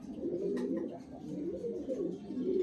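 A pet pigeon coos in soft, repeated throaty calls close by, sitting over a faint steady background murmur.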